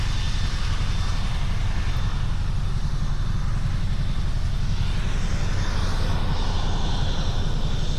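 An airplane engine drones steadily with a low, rumbling roar, moderately distant, without any voices.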